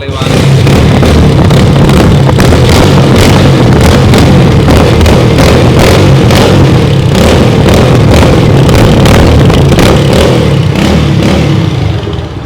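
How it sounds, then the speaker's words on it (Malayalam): A 2005 Hero Splendor motorcycle with a Euro 1 silencer is revved hard, giving a loud, continuous, close engine roar with rapid pulsing bursts for the whole stretch. "യൂറോ വൺ യൂറോ ഒന്ന് പൊട്ടിച്ച് കാണിക്കാൻ വേണ്ടി ഈ വാഹനം നമുക്ക് വേണ്ടി അൻവർ ഈ വാഹനം പൊട്ടിച്ച് കാണിക്കുക"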